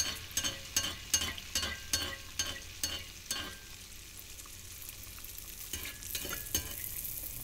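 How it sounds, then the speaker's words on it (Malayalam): Neyyappam, a sweet rice-flour fritter, frying in hot oil with oil splashed over it, giving a steady sizzle with a run of sharp rhythmic taps and scrapes that fade out, then return. Close, no voice. "വീണ്ടും ഓയിൽ തട്ടിക്കൊടുക്കണം നമുക്ക്,"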